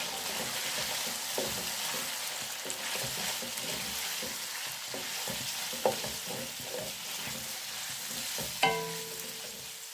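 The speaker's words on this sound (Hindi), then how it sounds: "चिकन को 4 मिनट भूनने के बाद क्यूब में कटे हुए प्याज पहले डाल दिए।" Chicken and cubed onions frying in a pan, a dense steady sizzle with scattered stirring scrapes and a couple of sharper metallic knocks near the end.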